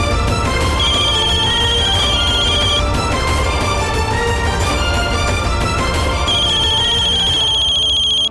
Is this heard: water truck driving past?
no